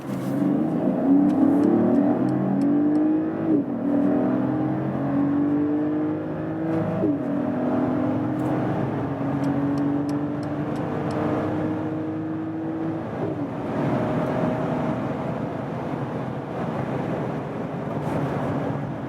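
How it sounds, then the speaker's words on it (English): A Mercedes GLE 450 SUV in Sports Plus mode is driven hard from low speed, its engine note climbing steadily and dropping at several upshifts, loud and continuous from inside the cabin with no talking. "here we'll go to the Sports Plus mode now and really hammer it out. Let's see about the acceleration of this engine"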